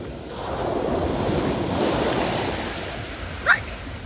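Ocean waves wash in steadily at a beach, a loud continuous surf roar mixed with heavy wind buffeting the microphone and a brief sharp sound near the end.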